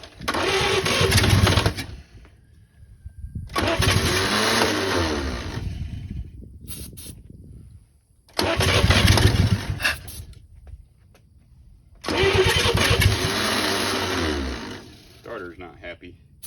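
A starter cranking a long-dead 80-year-old Chevy 216 six-cylinder engine in four loud, close bursts of a few seconds each, grinding and whirring without catching, with a person talking in the gaps.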